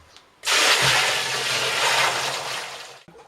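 Sugar dissolved in warm water pours steadily into a fermentation container for grape-pomace chacha, a loud continuous liquid rush lasting about two and a half seconds.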